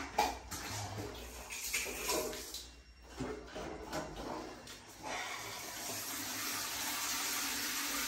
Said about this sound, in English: Can you check the pressure of the shower?